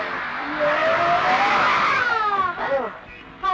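A car driven fast, engine note rising steadily with pitch sweeps suggesting acceleration and possible tire squeal, loud and close throughout, with music or voices mixed in.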